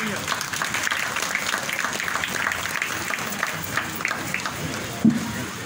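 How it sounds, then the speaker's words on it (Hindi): Audience applause at a religious quiz gathering about Jain tirthankaras, a steady wash of clapping from a crowd that holds for several seconds at an even level. "आइए जोरदार ताली।"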